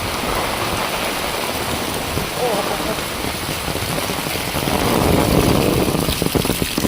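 Record-breaking heavy rain drums steadily on surfaces as fields flood, a dense continuous hiss that swells slightly toward the end, with a voice faintly present in the background.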